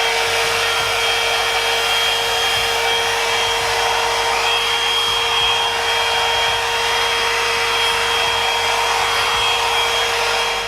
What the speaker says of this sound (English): this is when I get the blow dryer.